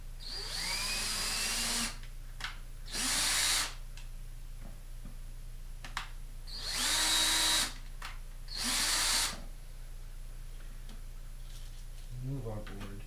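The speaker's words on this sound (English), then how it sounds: "Move our board and go ahead and drill these through." A power drill boring pilot holes through a wooden board, four loud high-pitched whirring bursts of one to two seconds each separated by quiet gaps and light handling knocks, with a steady low hum underneath.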